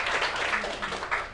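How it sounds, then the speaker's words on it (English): A school audience applauds for a teacher on a debate judging panel, a short burst of broad, steady clapping that stays fairly loud throughout, swelling slightly at the end. "A round of applause."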